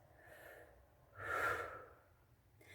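Slow, deep breathing during a belly breathing demonstration: a soft inhale followed by a longer, louder airy exhale through the nose and mouth, close and quiet with no talk.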